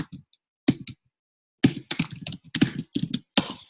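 Typing on a computer keyboard while entering code: a short isolated tap, a brief pair of keystrokes, then a dense run of quick clicks in uneven bursts, close and clear with no talk.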